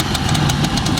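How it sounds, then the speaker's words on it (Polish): Old motorcycle engine idling after winter storage, with a steady rhythmic knocking beat about every fifth of a second, close and loud. "Słychać głos silnika"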